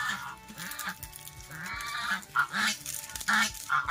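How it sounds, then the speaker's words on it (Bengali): Ducks being chased near a river give repeated nasal honks and quacks in quick bursts, fairly close and fairly quiet, with no voices over the calls. "আবার হাঁস তাড়াচ্ছে।"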